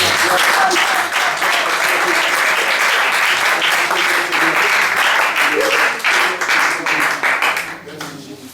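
A church congregation breaks into loud, sustained applause and clapping, close and dense, holding steady before thinning out near the end.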